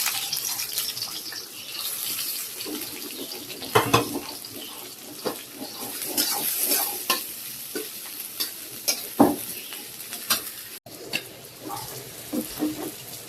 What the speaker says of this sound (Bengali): এখন মশলাটাকে কষিয়ে নেবো ভালোভাবে।